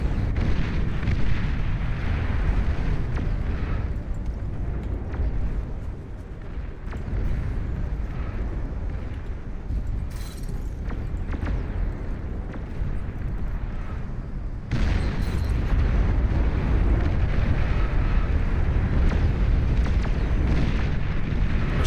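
A Juggernaut unit fires artillery in the strategy game Beyond All Reason, a steady rumble of deep booms and blasts with repeated explosions rolling on throughout and a louder stretch near the end.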